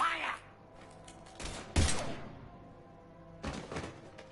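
Gunfire bursts in a Mass Effect 3 firefight: a short volley near one and a half seconds, a louder crack just before two seconds, then a second volley around three and a half seconds, with low background rumble between.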